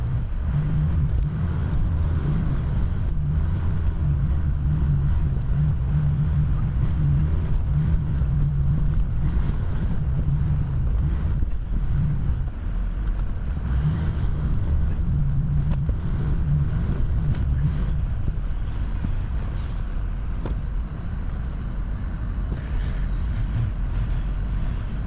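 Ford F350 pickup truck driving a muddy, dirt off-road trail, its engine a steady low drone with rumbling drivetrain and road noise throughout, fairly loud and continuous, no talking.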